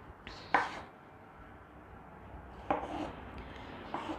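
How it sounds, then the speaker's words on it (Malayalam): A knife dices a tomato on a cutting board, giving three sparse, quiet chops spaced a second or more apart over soft background noise. "Now we are going to cut the tomato."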